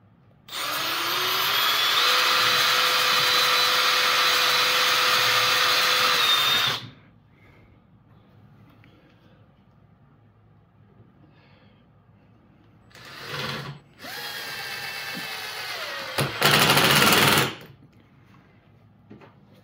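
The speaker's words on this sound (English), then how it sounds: "we're going to drill and put screws in to mount these" A power drill whirs loudly for several seconds, stops, then runs again in two shorter bursts, close by.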